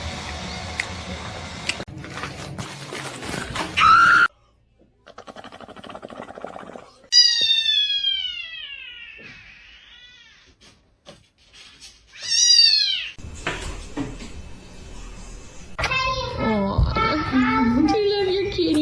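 A pet cat meows several times in drawn-out, rising and falling calls, close and clear, separated by quiet gaps, with a person speaking briefly early on.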